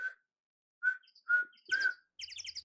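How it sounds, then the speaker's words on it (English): Ambient bird chirps from the Phoenix Wright Ace Attorney video game: several short tweeting calls and whistles spaced apart, then a quicker cluster of chirps near the end, moderately loud with quiet gaps and no talking. "Just hearing ambient birds, that calms me so much."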